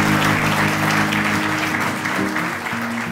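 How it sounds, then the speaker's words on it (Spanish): Applause for newlyweds at a wedding in Panama, a dense, steady roar of many hands clapping close by, with a faint musical tone underneath. "Le damos un fuerte aplauso a los nuevos esposos."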